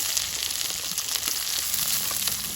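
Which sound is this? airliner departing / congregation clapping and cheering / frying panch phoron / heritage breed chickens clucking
frying panch phoron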